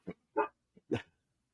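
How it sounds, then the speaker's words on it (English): A dog barks at noises outside, giving four short, faint barks and yips spaced unevenly over a second and a half, heard alone in a quiet room. "He's a very friendly dog."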